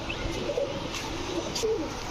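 Pigeons in a loft, including Teddy and Budapest strain birds, give soft low coos over a steady background hum, with a couple of brief murmuring calls near and moderately quiet.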